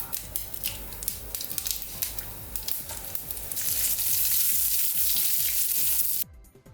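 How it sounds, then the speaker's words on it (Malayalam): Mustard seeds spluttering in hot ghee for tempering an Udupi-style palak tambuli: dense, close crackling and popping over a loud sizzle that swells midway, then cuts off abruptly. "കടുക് വറുക്കാൻ ഞാൻ കുറച്ച് നെയ്യിട്ടൊന്ന് കടുക് വറുക്കുകയാണ്."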